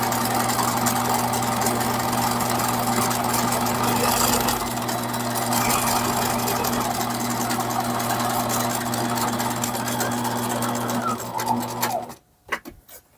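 A sewing machine runs steadily for about twelve seconds, stitching along the edge of fabric for a doll slip with a constant motor hum and rapid needle rhythm, then stops abruptly into near silence.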